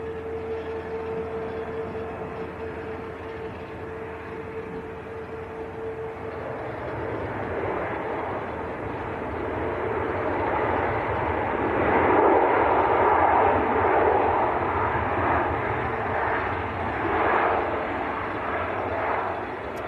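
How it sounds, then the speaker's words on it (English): A Helvetic Embraer jet from Zurich touches down at Manchester Airport, its broad engine roar building from moderate to loud around the middle and then holding as a steady rumbling wash, with a faint whine early on. "We've got the Helvetic Embraer just touching down in from Zurich."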